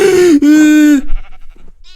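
A sheep in the Minecraft video game gives a loud, drawn-out bleat that wavers slightly in pitch and lasts about a second, followed by faint scattered game noises.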